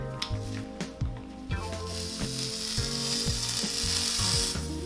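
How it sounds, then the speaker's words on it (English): A hair straightener presses and glides along hair, giving a crackling sizzle and hiss with repeated clicking, clamping clacks, close and fairly quiet, building slightly toward the end. "That's a great sizzle."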